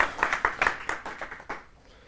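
An audience at a tech talk claps for the presenter, a short burst of scattered close handclaps that thins out and fades within two seconds.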